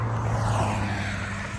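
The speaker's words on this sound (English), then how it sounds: "we're not on the scenic route, so you can hear all the traffic" Continuous road traffic roars past alongside a walking route, a steady loud rumble with a low engine drone throughout and no talking.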